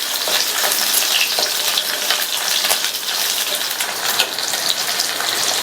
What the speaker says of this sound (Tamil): இந்த வெங்காயமும் நல்லா எண்ணெயில வதங்கி